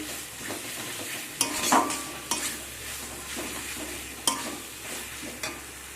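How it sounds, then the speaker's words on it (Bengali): Ground spices and masala sizzling as they fry in a pan, a spatula stirring steadily with a few sharp scrapes and knocks against the metal over a constant frying hiss. "সব কিছুকে আমি কষিয়ে নেব এখানে মশলাকে আমি ভালো করে কষিয়ে নিয়েছি"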